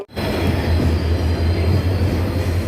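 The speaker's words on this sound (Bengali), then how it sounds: "ট্রেন এসে গেছে" A train arriving at a station rumbles in loud and close, a steady low mechanical roar with a faint high metallic whine above it, continuous throughout.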